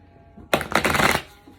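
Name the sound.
shuffling oracle cards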